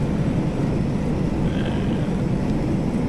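A Carenado Phenom jet rolls down the runway at full power in a flight simulator game, giving a steady, dense engine rumble that holds evenly throughout with no breaks.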